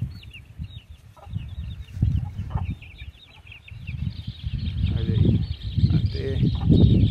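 Chicks peep on a farm in the dry season, with rapid high chirps running throughout beneath lower clucking, rustling and soft voices.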